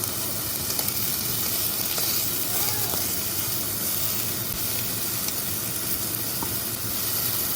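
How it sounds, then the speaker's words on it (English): Steady, dense sizzling of beef trimmings frying in a hot pan as the fat renders, a continuous crackling hiss with no pauses, close and moderately loud. "Hear the sizzle."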